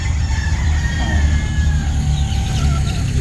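A breeder rooster crows loudly and close by with drawn-out, wavering calls, while other fowl cluck and crow around it over a steady low rumble of outdoor background noise.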